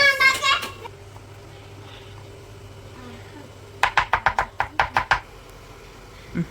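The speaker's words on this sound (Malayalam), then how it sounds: "എനിക്ക് ഉള്ളി മുറിക്കാൻ അറിയാം ഗൈസ്" Onions chopped on a cutting board, a quick run of about ten crisp, evenly spaced knife taps at close range, following a voice speaking at the start.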